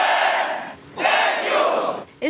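Loud crowd at a Ramzan gathering of people dressed in white chanting slogans in unison, two sustained roaring bursts with a brief dip between, close and powerful.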